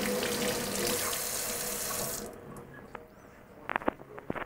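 Tap water runs steadily as a ceramic dental restoration is rinsed under it, a loud close hiss that stops partway through, followed by a few small drips and knocks.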